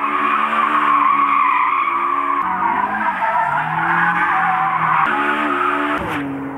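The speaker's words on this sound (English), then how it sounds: "They're going to do a timed lap of this track in our reasonably priced car." A reasonably priced car skids and squeals its tyres through a timed lap on a test track, the engine droning loud and close throughout with shifting pitch as it slides, no voices.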